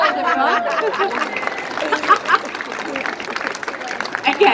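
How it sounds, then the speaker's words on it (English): Audience at a cooking show demonstration at the Cake Bake & Sweet Show in Melbourne applauding, a moderate crowd clapping under chatter, light laughter and talk. "Round of applause,"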